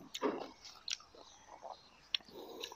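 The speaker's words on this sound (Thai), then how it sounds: "โอ้กรอบครับฟังเสียงกรอบครับ" Close bites into crunchy grilled Isan sticky rice (khao jee), a crisp crunch followed by softer chewing and a few sharp crackles, near and moderately loud, with no talk.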